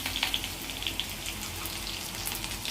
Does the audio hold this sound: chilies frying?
yes